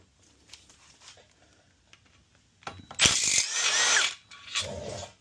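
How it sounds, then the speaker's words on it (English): Power tool backing 10mm bolts out of a GM LSA supercharger, a loud close whirring burst of about a second, a brief pause, then a shorter second burst after quiet handling clicks and rustles. "there's a few 10mm bolts in here that have to come out"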